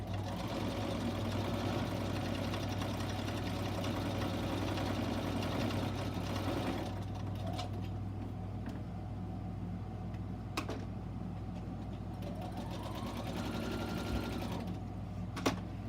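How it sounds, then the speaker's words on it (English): A sewing machine hums steadily while back stitching a box bag handle, running continuously for about half the time before dropping to a quieter background with scattered light clicks. "I am going to make sure I back stitch on this one because it is holding a handle."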